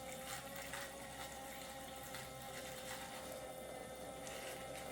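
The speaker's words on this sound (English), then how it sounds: "Turn the switch on, and you have running water." A toy kitchen sink tap runs water in a quiet, steady trickle with a faint pump hum underneath, continuous and soft throughout.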